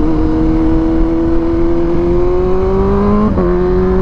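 A BMW M1000R sport motorcycle engine rises steadily in pitch as it revs, a loud, close, continuous drone that climbs evenly for several seconds and then catches briefly near the end, with no voices.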